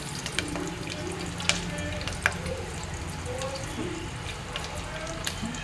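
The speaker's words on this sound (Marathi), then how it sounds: "तेलात कढीपत्ता टाकतोय" Curry leaves dropped into hot oil while tempering bitter gourd curry give a steady, moderate sizzle and crackle, with occasional sharp pops and faint clinks and no talking.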